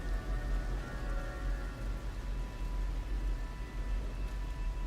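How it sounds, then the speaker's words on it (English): Rain falling in the No Man's Sky video game, a steady low rumbling hiss with faint tonal hum underneath, moderate and continuous with no talking. "Painfully hot rain."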